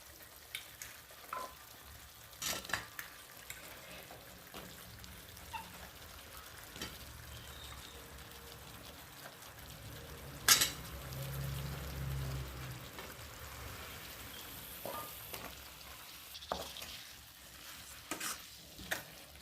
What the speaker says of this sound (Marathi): आलू वांगे टाकून झालेले आहे आता छान मिक्स करून घेते मी